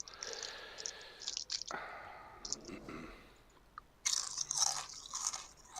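Close crunching and chewing of snack food by a gamer, a few sharp bursts with quieter mouth noises between, plus a loud crackle near the end, heard in a game voice chat with faint background sounds.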